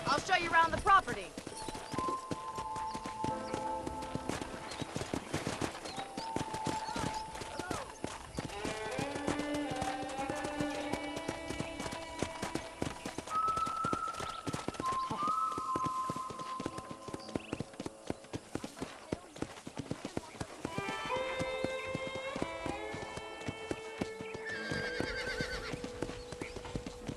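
Horse hooves clip-clop steadily on a ranch property in Red Dead Redemption, a continuous rhythmic trotting close by, with a background music score running throughout.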